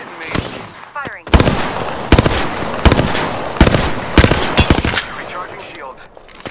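Rapid bursts of automatic gunfire from an Apex Legends match crackle loud and close in repeated volleys with brief gaps, as in-game firing continues through the whole stretch.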